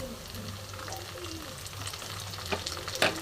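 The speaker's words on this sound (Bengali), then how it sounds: "একটু লম্বা করে কেটে রাখা টমেটো দিয়ে দিলাম।" Sliced tomatoes hiss and sputter in hot oil with onions and bay leaves for chicken dal, a soft steady sizzle with a few sharper stirring clatters near the end.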